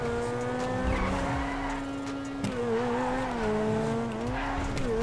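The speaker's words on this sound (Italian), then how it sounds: "sgommata tattica" Tires squeal loudly in a long wavering skid as a car slides through a tactical turn in the GTA 5 video game, with the engine humming beneath the screech.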